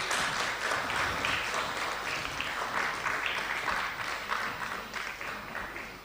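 Sustained applause from a large crowd at a university golden jubilee ceremony as the guest of honour receives a gift: dense, continuous clapping that holds steady for several seconds.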